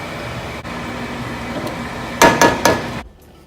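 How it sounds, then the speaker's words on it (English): Cooked beans being smashed in a pot over steady kitchen hum from the oven and fan: three quick, thudding mashes in close succession near the end, loud and close, then the background drops away. "So now I'm just smashing up my beans."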